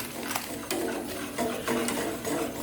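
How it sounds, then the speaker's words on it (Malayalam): A custard pudding mixture is stirred in a pan on the stove, giving soft repeated scraping strokes in a steady rhythm, close and moderately quiet, with no talking. "ഒരു കട്ടിയാകുന്ന പരുവം വരെ നമുക്കിതൊന്ന് ഇളക്കി കൊടുക്കാം"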